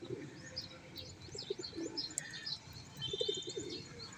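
Pigeons at a feeding spot outdoors, soft low cooing phrases recurring in short clusters, with scattered higher bird chirps over a steady ambient hum; no talking.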